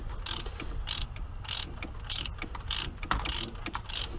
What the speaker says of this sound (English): we're going to hope we can slip a 19 millimeter up onto this temperature sensor and get it out of here